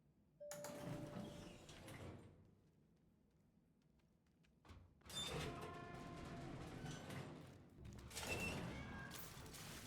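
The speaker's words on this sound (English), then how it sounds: "You just heard a meow there." A cat meows once, briefly and faintly, amid louder bursts of thumping and sliding noise that come and go in a quiet room.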